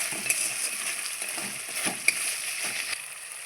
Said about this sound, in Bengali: বন্ধুরা আমি মশলাটা খুব ভালো করে কষিয়ে নেব